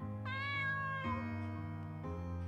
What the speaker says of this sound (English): A cat's voice.